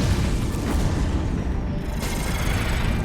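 A rocket explosion in Halo 5: Guardians bursts into a loud, dense boom that rolls on as a continuous roar of blast and debris for a few seconds.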